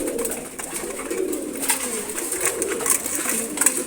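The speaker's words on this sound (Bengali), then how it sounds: "খুবই সুন্দর জোড়া কবুতর" A pair of pigeons cooing softly and repeatedly at close range while feeding in the morning, with small pecking clicks between the low coos.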